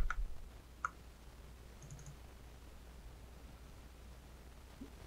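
A computer mouse clicks on a file while HTML pages are worked on and opened in a browser: two brief, sharp clicks near the start, then only quiet room hiss.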